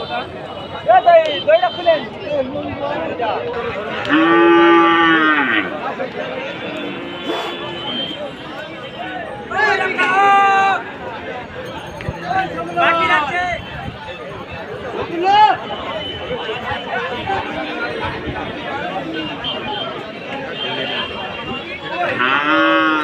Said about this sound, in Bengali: এখানে অনেক বাছুর আছে একদম দেড় মাস থেকে দু মাস বয়স পর্যন্ত